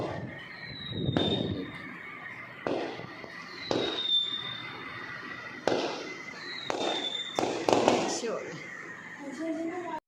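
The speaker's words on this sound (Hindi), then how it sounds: "ये आतिशबाजी हो रही है, मुझे बहुत अच्छी लगती है" Fireworks burst again and again at Karachi University, some with rising whistles, as people talk over the crackling explosions.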